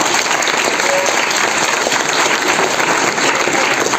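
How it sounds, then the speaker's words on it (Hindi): An audience at a school Children's Day celebration applauds loudly for a guest, sustained close clapping from a crowd of children and teachers. "मोहतरम जनाब आसिफ साहब उनके लिए जोरदार तालियां"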